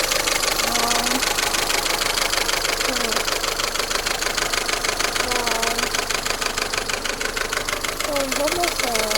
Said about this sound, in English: You can see the engine is running.